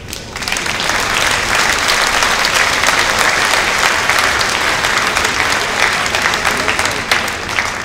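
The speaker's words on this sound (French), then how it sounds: "Applaudissements, s'il vous plaît." Loud, sustained applause from a large crowd at a mayor's New Year ceremony, many hands clapping densely and evenly from start to finish.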